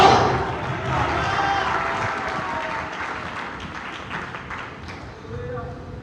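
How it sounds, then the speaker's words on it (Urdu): A church congregation at a Sunday meeting applauds and cheers in a dense, sustained wash of clapping and voices that slowly fades over several seconds. "تالیاں اور نعرے"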